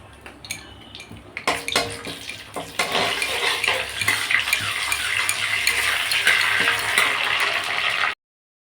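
Whole spices, bay leaf, cardamom, cinnamon and cloves, fry in hot oil in a pan with a steady crackling sizzle, preceded by a few clinks of a utensil against the pan, then cutting off abruptly.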